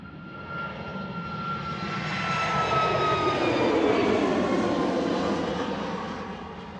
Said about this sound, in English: Ryanair heading out to Porto in Portugal.